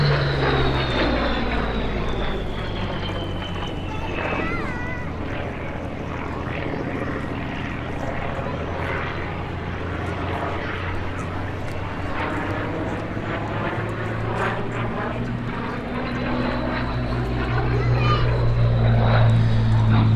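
Spitfire Mark I fighter in flight, a continuous loud propeller engine drone with slowly shifting pitch as it passes, and a voice talking over it throughout.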